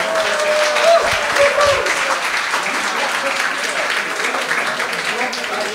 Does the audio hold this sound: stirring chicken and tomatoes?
no